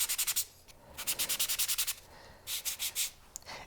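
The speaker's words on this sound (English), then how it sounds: "this is a thicker piece of clay, so I'm going to have to probably sand it a little bit longer" Thick piece of clay being sanded for a two-layer trillion pendant, close rhythmic scratchy rubbing strokes in quick bursts of several, separated by short pauses.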